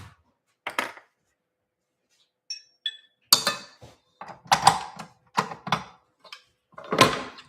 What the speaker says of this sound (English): Let me get my dough hook.